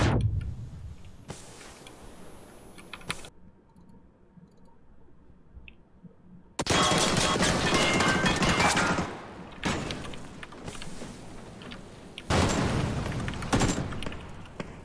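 Gunfire in the battle royale game PUBG (Battlegrounds), loud bursts of automatic shots and clicking reports that arrive in separate clusters, with quieter stretches in between.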